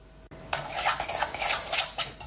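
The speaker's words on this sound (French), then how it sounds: "je mélange mon sucre et mon sucre vanillé" Sugar and vanilla sugar stirred together in a bowl with a spoon, giving a close, bright series of rhythmic scraping clinks against the bowl after a short pause.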